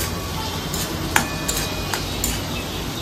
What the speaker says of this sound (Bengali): ওইদিকে কাঁকরোল ভাজাও হচ্ছে।